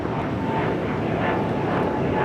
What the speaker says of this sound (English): This is Breeze Airways Moxie 535 taking off to Richmond, Virginia on the A220-300.